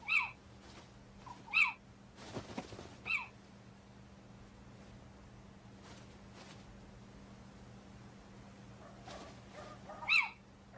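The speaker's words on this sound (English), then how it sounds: "One little owl is distracted by bright lights." A little owl gives several sharp, high calls at night, spaced out in short bursts against a quiet background with a steady low hum.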